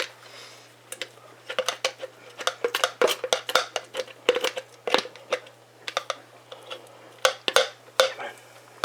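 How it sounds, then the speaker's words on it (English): A knife slicing through a firm bar of tallow and coconut soap in a room that is neither warm nor cold, giving a run of sharp, close crackling cuts and scrapes in quick irregular bursts, with no talking. "Let's try this with a knife instead"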